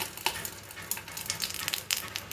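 Leaf-wrapped fish (meen pollichathu) frying in a pan, a steady close sizzle with crackling pops and occasional louder spits, no talk.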